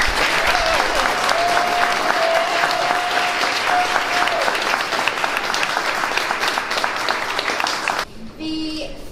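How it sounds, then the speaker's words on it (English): A live event audience gives sustained, loud applause for featured artists at a recovery art show finale, dense clapping filling the room for about eight seconds before cutting off abruptly. "Please give them a round of applause."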